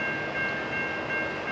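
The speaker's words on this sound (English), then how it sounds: "I think it's a hopper train, not sure." A Norfolk Southern freight train of hopper cars rolls past, a steady, loud rumble with a continuous high whine and no break across the stretch.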